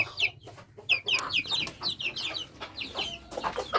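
Chickens and roosters of a local village flock, including an active fighter rooster and a sick one, cluck and squawk in quick overlapping bursts close by, busy and lively calls with no talking.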